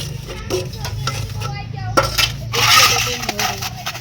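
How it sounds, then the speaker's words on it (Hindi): A pot used for cooking fish being scrubbed and washed, with metallic clinks, scraping and splashy water bursts, close by, while people talk over it. "बर्तन धो रही हो।"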